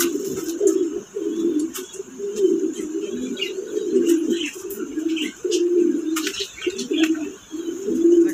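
Domestic pigeons kept for sale in a loft coo steadily, their soft throaty rolling calls repeating in close overlapping phrases, with faint chirps and light rustling in the background.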